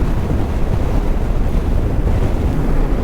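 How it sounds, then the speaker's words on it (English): Strong wind on the coast of Islay, Scotland, buffets the microphone in a loud, unbroken roar of low rumbling gusts, with a surf-like wash underneath. "Oh, it's very windy."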